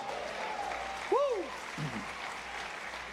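Congregation applause during a worship service, a steady background wash of clapping under a voice that rises in a short exclamation, continuing evenly throughout.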